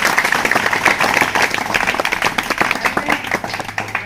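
A gathering at a village school's Har Ghar Tiranga celebration claps loudly for the headmaster, a close, dense round of applause with crisp individual claps that carries on steadily throughout.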